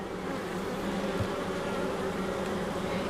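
A dense, continuous buzz of many honeybees, close and steady throughout, with no voices.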